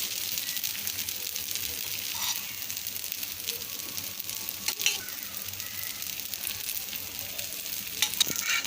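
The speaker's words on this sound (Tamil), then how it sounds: "மாவு எடுத்து கடாயில் விட்டுட்டு நல்லா மெல்லிசாக ஸ்ப்ரெட் பண்ணிப்போம்" Dosa batter spread thin in an oiled pan, crisping as it cooks, a soft continuous sizzle and hiss with faint scrapes, alone with no voices.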